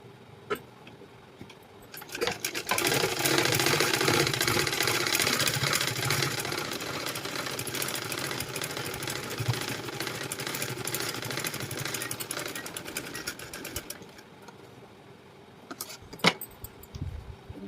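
Sewing machine stitching a blouse lining, running in one long continuous burst of rapid mechanical whirring and clatter that starts after a quiet moment and stops near the end, followed by a brief click.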